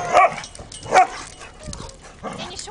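A pet dog lets out a few short barks and whimpering yips, two sharp bursts close by followed by softer whines, with household chatter around it.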